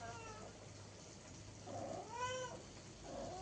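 A cat meows from somewhere above in a Kerala kitchen, three drawn-out calls spaced about a second apart, quiet and a little distant over faint background hum, with no talk.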